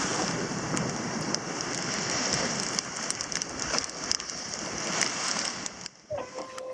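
Steady rain patters and hisses across the deck of a sailing boat far out at sea during a squall, a dense continuous wash of drops with a few sharper splashes near the end.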